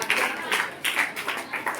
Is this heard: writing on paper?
no